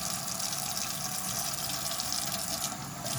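Warm water runs steadily from a bathroom sink tap, a constant close hiss and splash without pauses and no talking.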